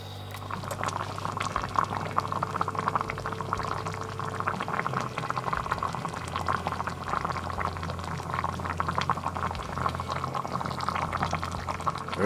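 Beef ration with slabs of meat and fat heating in a metal canteen cup, boiling steadily with a continuous bubbling, crackling hiss and a low hum for over ten seconds, close and fairly quiet with no talk.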